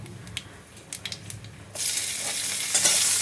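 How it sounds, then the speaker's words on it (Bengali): Dried red chilies and nigella seeds drop into hot mustard oil in a kadai. After a quiet start with a few light clinks, a loud, dense sizzle bursts in and keeps crackling close by. "কড়াইতে তেল দিয়ে দিয়েছি, তার মধ্যে দিয়ে দিলাম শুকনো লঙ্কা, এরপরে দিয়ে দিলাম কালো জিরে কিছুটা।"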